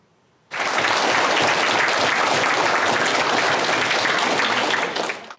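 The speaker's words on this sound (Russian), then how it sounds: "Своего земляка Александра школьники провожают под громкие аплодисменты" Schoolchildren give a loud, dense round of applause that starts abruptly and holds steady for about five seconds before tapering off at the end.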